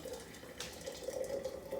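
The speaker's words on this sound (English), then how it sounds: "now I'm just going to pour some water into my mason jars." Hot water pours in a quiet, steady trickle into a mason jar with a soft hollow ring, close by and faint.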